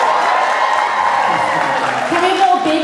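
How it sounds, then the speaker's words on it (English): A convention audience at a Baldur's Gate panel at RetroGameCon 2024 applauds steadily and fairly loudly for about three seconds, a dense wash of clapping with faint crowd noise and a voice in the hall. "Guys, round of applause for the baby hands"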